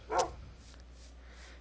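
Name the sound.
dog barking in video game Life in the Woods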